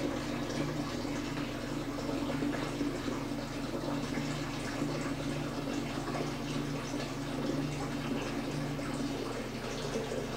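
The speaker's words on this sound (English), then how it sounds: "this is actually where the siphon begins to flow" An EZ-T siphon drains water from a flood-and-drain aquaponic grow bed, giving a quiet, continuous rushing gurgle of flowing water that holds steady without pause.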